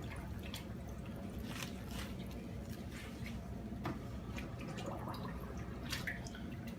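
Cabbage soaked in a tub of water for kimchi, with quiet scattered drips, splashes and soft squishing sounds at close range against a low background.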